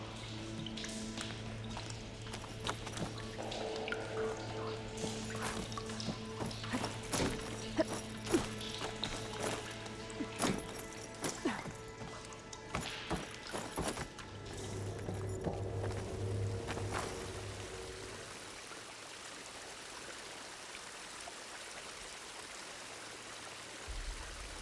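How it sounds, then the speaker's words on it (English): Water running and trickling through pipes in Horizon Forbidden West, a steady stream with scattered drips and taps, fairly close, thinning out toward the end. "water leaking through the other distribution system"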